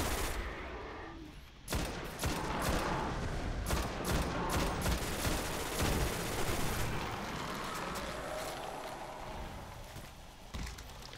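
Rapid gunfire in the video game Destiny on PlayStation 4, sustained bursts of shots and impacts crackling loudly and continuously throughout, with dense overlapping volleys and no voices over it.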